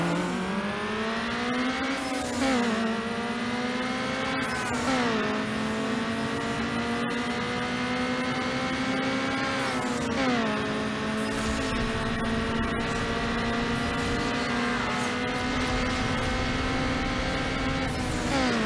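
A tuned car's engine in Need for Speed Underground revs hard and continuously with nitro, loud and close, climbing in pitch again and again as it shifts up through the gears, with no talk.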